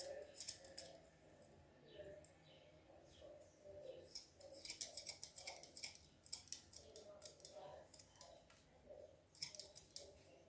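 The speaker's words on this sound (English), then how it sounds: "I'll have to trim this part of the fur so that it can look legit" Scissors snip fur on homemade sandals made from old clothes, bursts of quick crisp cuts separated by pauses, close and fairly quiet, with faint background bird cooing.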